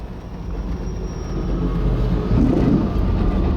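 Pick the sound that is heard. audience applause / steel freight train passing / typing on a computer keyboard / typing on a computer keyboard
steel freight train passing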